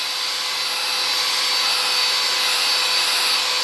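An air blower runs steadily, drying a piece under restoration in place of a proper dryer; a constant, loud broadband whoosh with no pauses and no voices.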